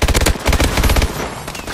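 Rapid automatic gunfire from the AMR-9 in a Call of Duty Advanced Warfare Gun Game multiplayer match, a loud, dense burst of shots that tapers into a fading rattle.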